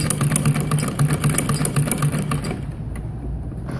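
A sewing machine runs a line of stitching along a ribbon on a decorative neckline, giving a close, rhythmic, motor-driven rattle for about two and a half seconds before it stops, leaving only a low hum.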